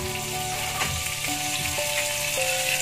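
Butter melting in a pan while being stirred, the start of a sauce for smoked beef and cheese risoles, gives a steady, close sizzle and hiss that runs evenly throughout with no talking.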